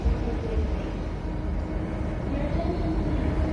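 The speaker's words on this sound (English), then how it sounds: "The train is here." A train pulling into a station, a low steady rumble and rolling hum with a faint squeal, continuous and fairly near, with a voice briefly audible over it.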